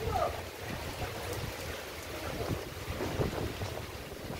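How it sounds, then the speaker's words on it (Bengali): Strong wind gusting through a rain-soaked home garden of ferns and potted plants, heard as a steady, fairly loud blustery rush with mild surges and no voices. "তো খুব হাওয়া দিচ্ছে, একটু বেঁকেও যাচ্ছে"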